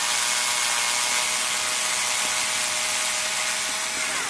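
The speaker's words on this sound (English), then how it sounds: "So I will drill this part, the sticking out on one side" A drill bores into a small part of a Fayee FY004A model, giving a steady, continuous high whine and grinding that stays loud and unbroken throughout.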